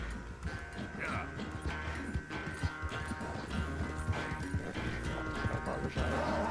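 Horse hooves clip-clopping at a steady trot in the video game Red Dead Redemption 2, with faint whinnying over a dense game soundscape, moderately quiet and continuous, with some talking.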